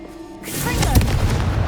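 A Confringo fire spell blasting in Hogwarts Legacy: one sudden, loud booming burst that swells and rumbles on with a fiery crackle, close and heavy in the low end, with no talking over it.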